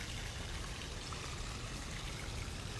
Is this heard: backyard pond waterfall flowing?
yes